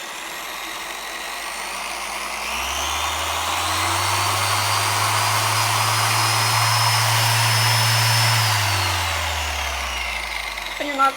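A light dual action car polisher with an 8 mm orbit spins up, holds a steady loud whirring hum for several seconds, then winds down, close and alone.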